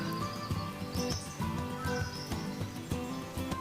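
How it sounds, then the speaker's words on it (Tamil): Faint, busy chirping of many small birds overlapping steadily against a constant background hum, inside an aquarium in Genoa, Italy. "மேலே ஒரே சவுண்டு குருவி கத்துற மாதிரி."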